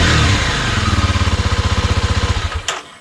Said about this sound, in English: bike will start